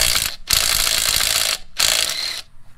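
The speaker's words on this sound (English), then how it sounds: "I'm going to go grab my cordless impact." A cordless impact wrench hammering off 7/8 lug nuts on a Tahoe/Yukon-type GM SUV, two loud bursts of rapid rattling impacts separated by a short pause, heard up close.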